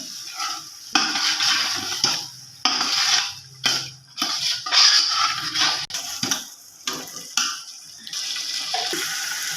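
Softened chickpeas tumble into a cooking pot for chickpea pulao and are stirred, giving wet splashing, sloshing and clattering against the pot in uneven bursts, with no voices.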